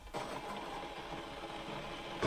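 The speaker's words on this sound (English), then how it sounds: "You can hear the water heating up." A Keurig K Duo coffee maker heats water, giving off a faint steady mechanical hum and rattle. A sharper sound rises right at the end.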